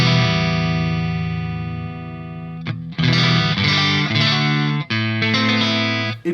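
Electric guitar through a Marshall JCM2000 TSL100 amp on the clean channel with the deep switch off: a long sustained chord rings out, then a burst of strummed chords follows, loud and full with no talk.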